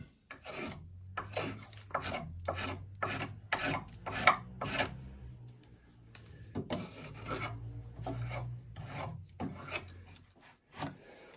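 Wood River adjustable spokeshave taking shavings from a wooden workpiece, a series of rapid rasping strokes in quick succession, close and fairly loud, with brief pauses between bursts and no talking.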